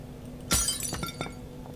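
Glass smashes in the horror video game Penumbra: Black Plague, a sudden loud shattering crash followed by a few scattered tinkling shards settling over quiet background hum.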